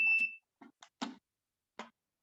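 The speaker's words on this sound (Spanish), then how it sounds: "Ahí sonó la alarma." Gas concentration meter alarm sounding as the reading climbs: a short electronic beep, then several brief bursts of chirping tones spaced irregularly, close and clear with no talk.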